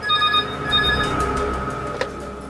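A telephone rings with a steady electronic trill over a low room hum, followed by a short click near the end.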